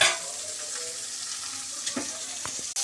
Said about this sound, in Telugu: గుడాలు అయితే పోపులో వేసేసారు